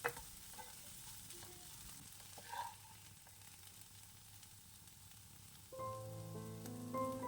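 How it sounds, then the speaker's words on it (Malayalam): Onions and carrot sautéing in a pan for potato masala, a faint steady sizzle with light stirring scrapes, growing slightly louder near the end with a few clinks. "ദാ ഇവിടെ സവാള നന്നായിട്ട് വഴന്ന് കിട്ടിയിട്ടുണ്ട്, ഒട്ടും കരിഞ്ഞിട്ടില്ല"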